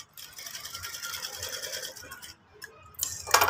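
A sewing machine stitches piping onto a blouse, running in a close, steady mechanical whir for about two seconds, then pausing before a few short, sharp clatters at the end.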